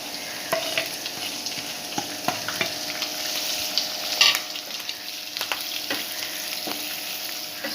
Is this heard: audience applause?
no